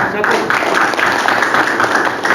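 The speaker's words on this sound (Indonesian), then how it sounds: "ini apresiasi tepuk tangan untuk Bapak Dewan" Audience applause for council members at a village hearing with Blitar Regency's Commission 1 in Sidorejo: dense, steady clapping from a room full of people that holds at an even level throughout.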